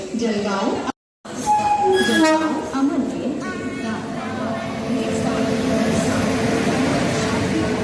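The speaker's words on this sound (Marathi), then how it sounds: "ट्रेन आलेली इकडे." A train rumbles in with squealing wheels and a brief horn, the rolling noise steady and loud nearby while people talk over it.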